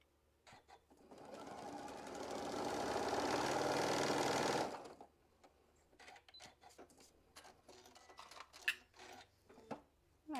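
A sewing machine stitches quilt block pieces together, a steady loud mechanical hum and rapid needle patter for about four seconds, then stopping, followed by scattered clicks and fabric handling noises.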